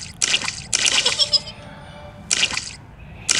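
Cartoon splashing in muddy puddles from Peppa Pig, heard as repeated bright watery splash bursts with short gaps between them, loud and close, with no talking.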